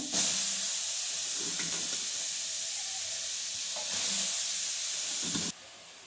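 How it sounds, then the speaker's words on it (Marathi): Loud, continuous sizzling and hissing from cabbage frying in a wok, with a few scraping stirs, ending slightly quieter. "भाजून घेऊया बघा कढईत वतून आता कोबी चांगलं"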